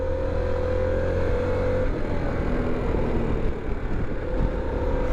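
A 2021 Harley Pan America motorcycle is ridden on the road, its engine a loud steady drone with a brief drop in pitch as it shifts, under continuous wind rush.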